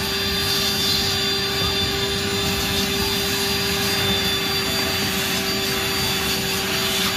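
A Rainbow vacuum cleaner runs on setting number 4 while cleaning a 2020 Dodge Caravan, giving a loud, steady motor whine with a constant airflow roar that stays unchanged throughout.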